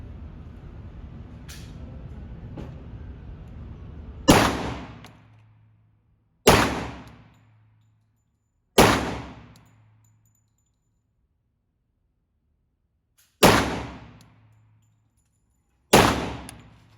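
Five sharp 10mm pistol shots ring out at an outdoor shooting range, each a loud crack with a short decaying echo, spaced a few seconds apart after a stretch of faint background rumble.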